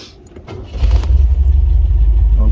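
A 1978 MGB Roadster engine catches and settles into a loud, steady rumbling idle after a brief rattle at the start, heard close up.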